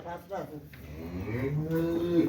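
A cow gives a long, low moo that swells and holds, fairly close, with a short lower grunt at the start.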